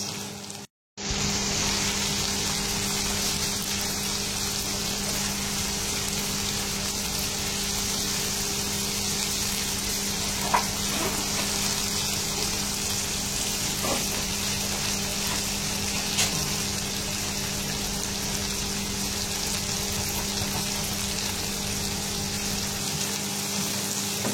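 Shrimp and carrots stir-fry in a pan, a continuous close hiss of sizzling oil that carries on steadily with a few faint clinks and pops, after a brief silent gap at the start.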